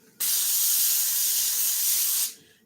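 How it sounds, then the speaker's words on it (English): A steady, close aerosol hiss of cooking spray onto aluminum foil lasting about two seconds, starting abruptly and trailing off at the end. "I forgot to spray the foil."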